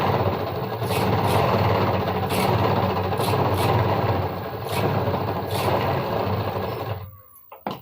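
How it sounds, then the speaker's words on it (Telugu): A sewing machine runs a steady, continuous stitch along the top of a school uniform shirt collar, loud and close with small rhythmic variations, then stops abruptly near the end. "పైన స్టిచ్చింగ్ అనేది వేసేసుకున్నాము"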